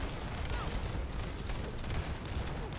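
Dense, continuous rattling gunfire from a video game shooter, a fast unbroken stream of shots at moderate volume with no pauses and no clear voices.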